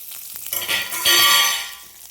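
Mustard seeds, shallots, garlic, curry leaves and dried red chilies fry in oil as they are stirred, a loud close bright sizzle swelling after a few soft clinks and then fading.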